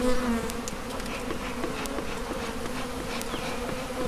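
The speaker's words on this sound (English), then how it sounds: "It's covered in bees." Honeybees from a bee package swarm and buzz steadily at close range, a dense continuous hum with a few individual insects droning past, no voices.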